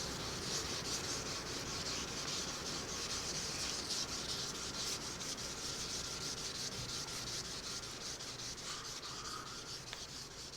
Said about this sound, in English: I'll move to actually holding the sandpaper in my hand